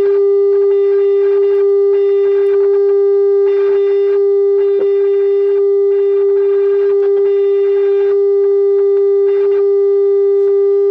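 Steady 30 kHz carrier level adjustment test tone on a Pioneer QX-747 receiver, a constant pure pitch with faint intermittent buzzy distortion bursts riding over it, loud and unbroken throughout.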